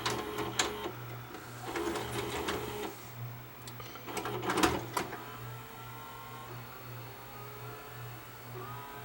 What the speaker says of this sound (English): It does sound like there's a belt slipping